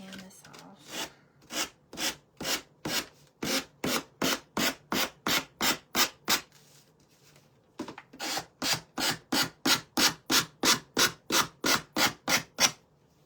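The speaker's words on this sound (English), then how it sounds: "All right, let me sand this off." Rhythmic back-and-forth sanding strokes rubbing paint off a surface, about two dozen steady close strokes in two runs separated by a short pause.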